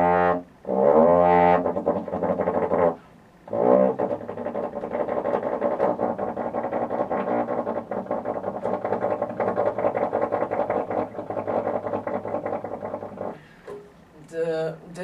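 French horn played with a percussive tonguing effect: a dense, rapidly articulated brassy buzz holding a low pitch for over ten seconds, close and full, with a few brief breaks and tonal notes at the start.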